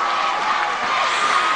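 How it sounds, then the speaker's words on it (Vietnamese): Steady, dense applause from an awards-ceremony audience at the Zing Music Awards, with crowd cheering blended in. It sustains evenly at moderate loudness for the whole stretch without letting up. "Một tràng pháo tay cho phong cách ấn tượng Thanh Bạch."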